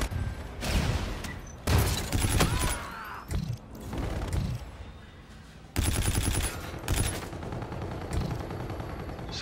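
Rapid automatic gunfire in a hardcore team deathmatch of Infinite Warfare, loud clattering bursts in several volleys with short gaps between them, no talk over the shooting.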